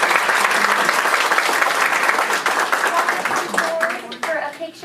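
Applause from an audience at a school board meeting, loud dense clapping that thins toward the end, with a few voices and children's chatter coming through as it fades.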